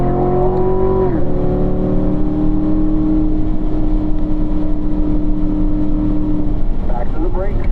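A race car on a track accelerates at full throttle, its engine note climbing through a gear change and then holding a loud, strained wail. An instructor talks over the engine.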